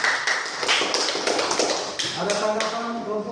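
A classroom group applauds a presenting group with a short burst of scattered handclaps and taps, then a voice speaks over the fading claps.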